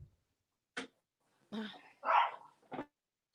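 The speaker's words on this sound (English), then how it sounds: "Excuse my dog." A dog barks several times nearby, short sharp woofs spaced out with brief silences, one louder bark in the middle.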